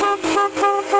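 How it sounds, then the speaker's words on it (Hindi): A dual motorcycle horn wired through a 4-pin relay gives three quick, bright, close toots in a row. "पेट्रोल जाए लेकिन हॉर्न बजना चाहिए।"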